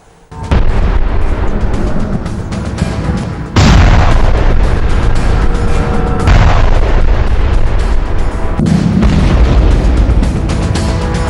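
Heavy explosions and artillery fire at a border army post along the Line of Control, loud, dense booms and rumbling blasts filling the whole stretch with a sharp fresh burst partway through.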